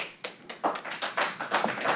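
Audience applause at a city commission meeting in Royal Oak following a public comment, a short burst of scattered hand claps in a room, moderately close, with no talking.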